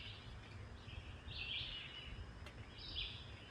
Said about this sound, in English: Not being able to hear anything except the birds.